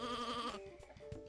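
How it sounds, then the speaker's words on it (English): Sheep bleating in the video game Sheep Raider, one wavering bleat lasting about half a second, followed by faint footstep-like taps and game sounds. "It's just a simple matter of picking up the sheep"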